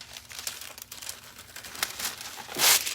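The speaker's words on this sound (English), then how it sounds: "And let's start peeling" A vinyl decal transfer peels off a snowman ornament with a soft, continuous crinkly rustle, closing in a louder, sharper ripping crackle near the end.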